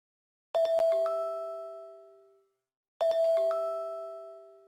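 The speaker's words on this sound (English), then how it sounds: "every time you click on it, you'll hear the sound that it's going to make" A bright chiming iPhone ringtone plays twice, each bell-like phrase ringing out and slowly fading in silence.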